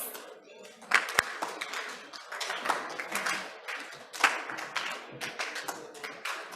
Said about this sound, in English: Can I hear the popcorn claps?